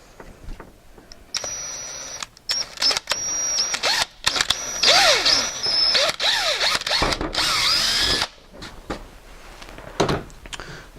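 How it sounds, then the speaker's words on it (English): A power drill whines in repeated bursts of high-pitched grinding, starting and stopping several times as it bites into metal while drilling holes for tractor cab lights, close and loud. "you can drill these holes a little bigger"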